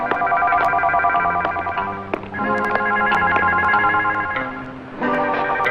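A telephone rings steadily and loudly in a room in a 1980 Hindi film scene, its bell tone repeating in continuous bursts with a short break around the two-second mark before resuming.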